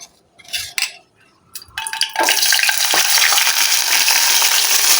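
Milk-soaked semolina stirred in hot ghee for a sweet suji dish: a few scraping, clinking spoon strokes, then from about two seconds on a loud, steady, close sizzle that fills the rest of the clip.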